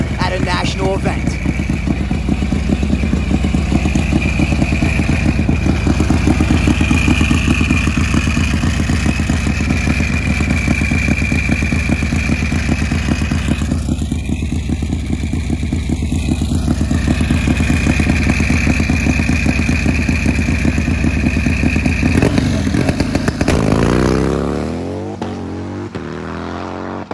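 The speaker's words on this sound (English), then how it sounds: "Nice clean pass on this brand new Keystone Raceway drag surface, top end of the racetrack." Harley bagger motorcycle making a drag racing run at Keystone Raceway, its engine roaring loud and continuous at high revs for over twenty seconds before dropping away near the end, with talk over it.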